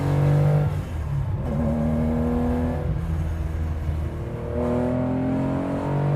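A 1971 Porsche 911T engine is held at high revs, a loud, continuous close-up roar that rises in pitch, drops at gear shifts and then climbs again, with no voices.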